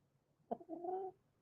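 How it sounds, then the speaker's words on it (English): A hen out at night gives a single quiet cluck followed by a soft, drawn-out warbling call, faint against a still background. "My chicken is out tonight."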